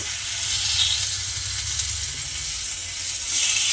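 Tomato slices cut into rounds sizzle steadily in a hot oiled pan for a tomato-and-egg dish, a close, continuous frying hiss without pause.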